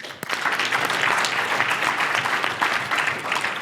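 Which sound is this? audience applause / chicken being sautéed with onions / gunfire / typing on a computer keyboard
audience applause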